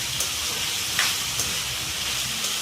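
Potato pieces frying in oil in a pan while being stirred, a steady close sizzle with occasional scraping taps of the spoon, crisp potato fry cooking.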